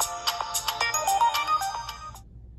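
A melodic ringtone chimes from the rear speaker of an Alcatel Go Flip 4 flip phone, a bright repeating tune, fairly loud and close, stopping abruptly before the end.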